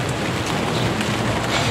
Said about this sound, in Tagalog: Ulan na nga.